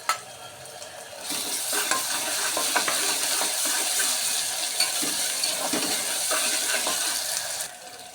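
A spoonful of ginger garlic paste hits a hot pan for a potato and chana dal curry, bursting into a loud continuous sizzle after a quiet start, with busy stirring scrapes throughout.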